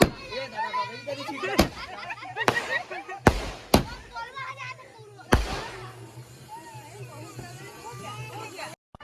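Mirchi firecrackers bursting during Diwali celebrations in a Chhattisgarh village: several sharp, loud cracks spaced irregularly, a few close together, over steady chatter and voices of people nearby.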